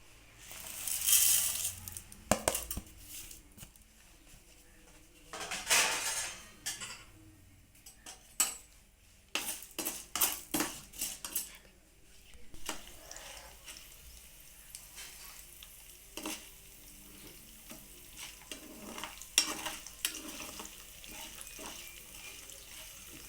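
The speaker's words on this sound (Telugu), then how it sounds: "నూనె వేడెక్కిందండి. ఇదిగో ఈ తాలింపు వేసేసుకుందాము." Tempering spices and dried chilli pieces drop into hot oil in a pan while making tomato and coriander roti pachadi, giving a soft intermittent sizzle with scattered clinks and stirring scrapes, fairly quiet and close, without speech.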